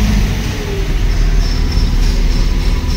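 A car engine on a STAG gas injection system runs loud and steady at close range, a continuous low rumble with no voices.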